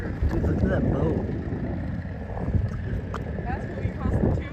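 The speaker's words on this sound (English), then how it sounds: "look at that boat" A boat passes on a lake with outdoor wind buffeting the microphone, under excited talk from people on the shore.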